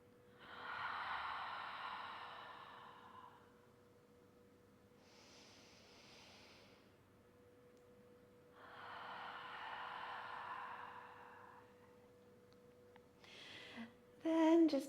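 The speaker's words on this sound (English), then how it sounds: "Couple more deep breaths here." Slow, deep breaths during a calming cool-down after a trail run, three long soft exhales spaced a few seconds apart, close and quiet, with a brief rustle at the end.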